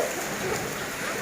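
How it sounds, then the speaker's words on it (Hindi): Heavy rain pours in a strong windstorm, a dense, steady, loud hiss of downpour with no voices. "अब ये देखो बारिश पड़ रही है, और बहुत तेज आंधी है, हवा चल रही है बहुत भयंकर वाली।"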